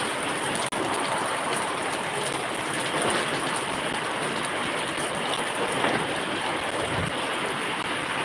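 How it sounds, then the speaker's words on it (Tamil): Heavy rain pours down outdoors, a loud, dense, unbroken hiss of drops hammering surfaces close by, steady for the whole stretch, with one sharp click near the start. "சரியான மழை பெய்யுது"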